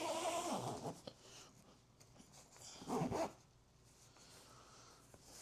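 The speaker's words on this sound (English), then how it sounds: "So we'll bring these 2 zippers back up." Zippers on a OneTigris Coco Nest hot tent are pulled in two quick, close rasping strokes a few seconds apart, with quiet pauses between them.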